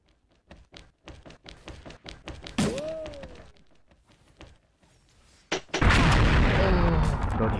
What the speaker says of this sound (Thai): อีกแล้วระเบิด